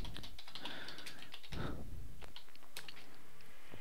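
Fingers type a search on a computer keyboard, producing quick, close clicking keystrokes in short irregular bursts with small pauses between them.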